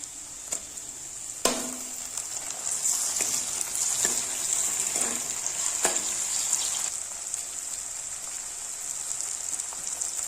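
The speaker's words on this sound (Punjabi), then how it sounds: "ਪਿਆਜ਼ ਚੰਗੀ ਤਰ੍ਹਾਂ ਭੁੰਨ ਹੋ ਗਿਆ ਤੇ ਇਸ ਵਿੱਚ ਪਾਵਾਂਗੇ ਟਮਾਟਰ" Onions and tomatoes sauté steadily in a hot pan, sizzling and frying, with a few sharp clinks and scrapes of stirring scattered through; no one speaks.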